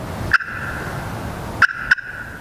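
Three short, sharp clucks from a slate turkey call, one alone and then a quick pair, each a clipped high pop over quiet room hiss.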